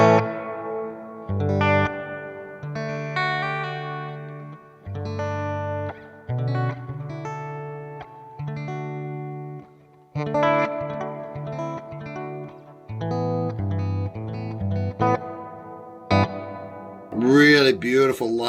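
Guitar notes and chords played through the hall reverb setting of a Sonicake Pocketmaster pedal, turned all the way up, ring out in phrases with long lush tails, and a voice briefly speaks near the end.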